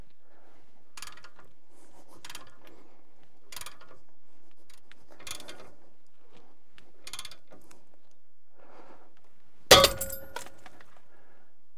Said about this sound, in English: I'm gonna tighten it up till it pops.